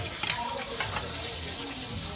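Food sizzling and being stirred in a frying pan on a home stove, a steady close frying hiss with a few brief scraping stir sounds near the start.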